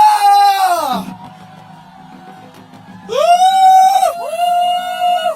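A protest rally crowd outside Daejeon City Hall shouts loud, sustained, amplified whoops while doing a wave, in one long cry, a quieter lull, then two more drawn-out bursts.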